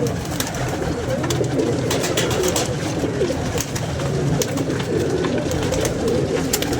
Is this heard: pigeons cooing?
yes